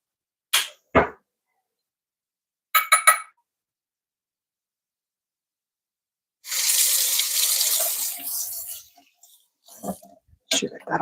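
A kitchen tap runs hard for about two seconds as cocoa is rinsed off a utensil, a loud even gush that stops abruptly, bracketed by short knocks and clinks before and after.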